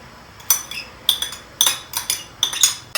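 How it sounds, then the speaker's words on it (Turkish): A spoon stirring a green lentil salad dressed with olive oil, salt and pomegranate molasses in a bowl, giving bright clinks and taps against the dish, about six close, crisp knocks spaced irregularly over a few seconds. "güzelce bir karıştıralım"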